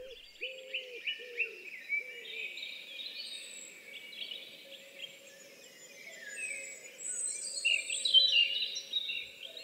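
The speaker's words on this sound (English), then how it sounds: "the deeper notes of the wood pigeon, with their five notes that they repeat over and over" A dawn chorus of many birds sings through the garden, bright overlapping songs building toward the end, while a wood pigeon repeats low cooing phrases near the start.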